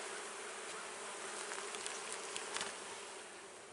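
Honey bees swarm around hives in an outdoor bee yard, making a dense, continuous buzzing drone that stays steady and moderately quiet, with brief louder passes of individual bees near the middle.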